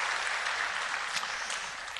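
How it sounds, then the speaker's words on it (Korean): A Korean church congregation claps to bless and welcome a family standing during a Sunday service, sustained dense applause of many hands at moderate loudness, tapering slightly at the end. "우리 박수로 축복하고 환영하겠습니다"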